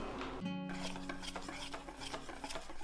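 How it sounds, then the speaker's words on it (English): Batter with oil being whisked for boondi raita, a steady scraping and stirring rasp in a bowl, soft and continuous with quick repeated strokes and a brief clink near the start. "Add in a tablespoon of oil and whisk for about 2 minutes."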